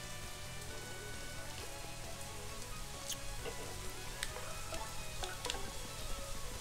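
Heavy rain falls outside, a dense, steady hiss of patter with scattered sharper drops, fairly faint and continuous, with no talking.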